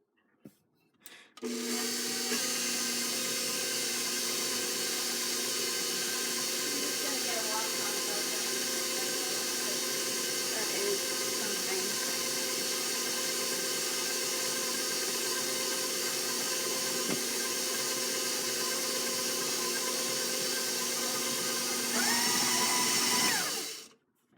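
A stand mixer beats sugar cookie dough with a loud, steady mechanical whir that holds its pitch for about twenty seconds before switching off.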